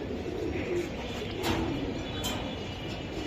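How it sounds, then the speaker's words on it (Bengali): A jet-black Mashaldom pigeon coos softly among other birds, with a low steady murmur and a few faint higher chirps, under a constant background hiss, close by and without speech. "একদম কালো কুচকুচে কবুতর"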